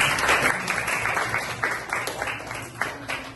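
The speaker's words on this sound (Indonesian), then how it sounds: "kasih tepuk tangan untuk teman-teman" Applause from a group of schoolchildren for their classmates during an Islamic religious education lesson, steady clapping from a room full of students that carries on throughout at moderate loudness.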